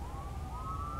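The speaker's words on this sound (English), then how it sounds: "sorry for the background noise if you can hear that ambulance." Ambulance siren passing outside, a faint wailing tone that sweeps slowly upward over a low rumble of background noise, with no one talking.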